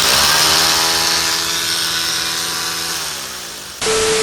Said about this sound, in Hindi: फाइनली ड्रिल का काम तो हो गया